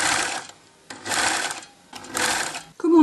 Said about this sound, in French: on est prêt à coudre